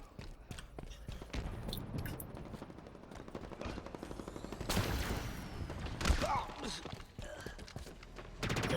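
Rapid automatic gunfire from a weapon in the video game Halo Infinite, fired in bursts amid layered in-game effects, impacts and ambient action, fairly loud with a heavier boom near the end.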